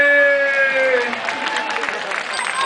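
An audience claps and cheers at an elephant show, celebrating the elephant Cookie's final performance. Dense, steady applause builds and carries on through the clip, with voices mixed in over the crowd noise.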